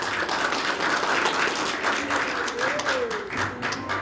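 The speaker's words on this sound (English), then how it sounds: "everybody clapped" An audience claps together in steady applause that stays loud for the whole stretch, with a faint voice rising briefly beneath it.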